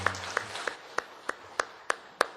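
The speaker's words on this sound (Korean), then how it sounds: "하나님께 영광의 박수를 올려드립니다" A church congregation claps in a slow, steady rhythm during a Mother's/Parents' Day worship service, about eight sharp, evenly spaced claps over a faint murmur, moderately quiet and without speech.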